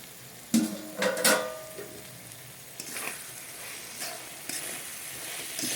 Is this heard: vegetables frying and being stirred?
yes